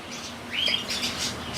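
Young chicks waiting to be hand-fed give a few soft, high chirps in quick succession against a quiet background, with no talking.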